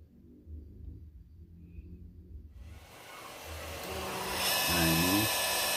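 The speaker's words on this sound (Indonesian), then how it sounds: "langsung dirapihkan dengan amplas gerinda" A power grinder fitted with sandpaper smooths and rounds the edges of a fiberglass part ahead of painting, a broad steady whirring that starts about halfway through, grows louder and fills the rest of the clip, with talk faintly underneath.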